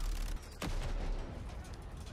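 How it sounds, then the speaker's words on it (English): A grenade explodes in a Modern Warfare II campaign scene, a dense, loud burst with a sharp crack and rolling rumble that tails off over a couple of seconds. "That grenade sound, though."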